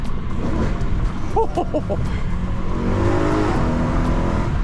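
A 2012 BMW M3 with a 4.0-litre V8 revs loudly and close, a steady dense engine roar with a brief run of rising blips near the middle.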